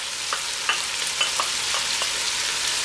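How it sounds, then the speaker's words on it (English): Pork stir-frying in a wok with freshly added garlic, ginger and onions, giving a steady soft sizzle with a few scattered clicks and scrapes of stirring. "I'm going to stir and saute this for about 1 minute."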